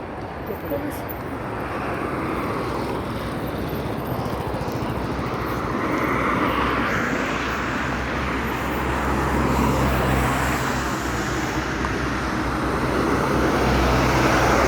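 Cars pass on a two-lane road in Side, Turkey, a continuous roadside rumble that swells as vehicles approach and go by, loud and close, with people talking nearby.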